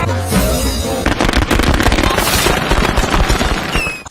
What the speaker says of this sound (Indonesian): menyebabkan semua petasan meledak.